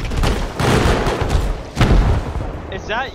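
Explosions from a raid in the survival game Rust, heard as loud rumbling blasts in quick succession with shouting voices over them.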